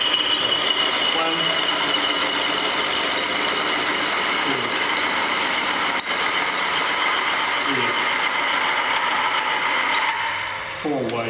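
An engine oil test rig grinds loudly with continuous whining, ratcheting mechanical noise as weights are added, straining until it seizes near the end, while a person talks over it.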